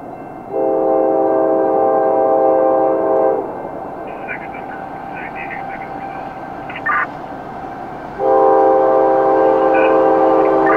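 A CSX freight train rolls past with its horn sounding in two long, loud blasts, separated by a stretch of rumbling wheels and the clatter of passing railcars.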